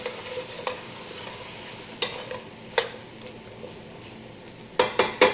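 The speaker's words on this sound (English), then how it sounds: "I'm going to give this a good stir" A spoon stirring hearty food in a pot, soft scraping and sizzling with sharp metallic clinks against the pot at irregular intervals, ending in a quick run of three louder knocks.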